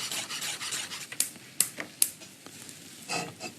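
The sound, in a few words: knife slicing garlic thinly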